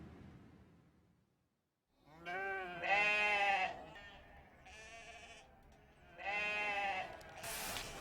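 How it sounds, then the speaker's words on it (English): Sheep on a farm in Ningxia, China bleat several times in loud, wavering calls, with a quiet pause before the first and a few short gaps between later cries. "The sheep bleat as punctually as an alarm clock."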